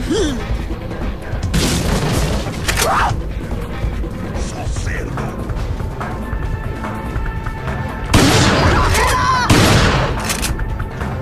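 Repeated loud shotgun blasts in Resident Evil 4 punctuate a busy game soundscape with mechanical clatter and someone talking over it.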